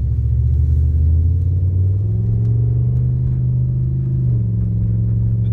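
A 2006 Pontiac Grand Prix GXP with a 5.3-liter V8 drives along, its deep engine rumble steady and close, with engine pitch rising gradually as the car accelerates through a gear.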